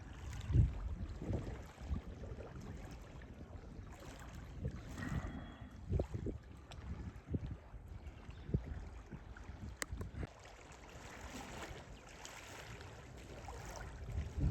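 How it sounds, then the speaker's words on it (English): Outdoor ambience at the marina in Strahan on Macquarie Harbour, Tasmania, with steady wind and water noise, low rumbling gusts and occasional knocks and creaks from moored boats, no voices. "This is the marina at Strahan. In Macquarie Harbour."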